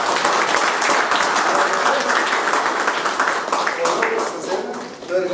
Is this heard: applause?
yes